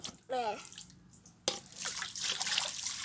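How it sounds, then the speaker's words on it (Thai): A young child plays in water in a bathing basin. A short childish vocal sound comes first, then sudden close splashing and sloshing continues to the end. "น้องมาดา แอบพ่อมาเล่นน้ำอีกแล้ว"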